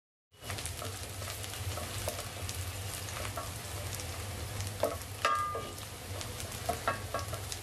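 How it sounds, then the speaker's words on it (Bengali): Onions crackle and sizzle steadily in a frying pan, a loud continuous hiss close up with occasional scraping stirs and a few sharper pops, no voices. "পেঁয়াজগুলো ভাজা হয়ে গিয়েছে"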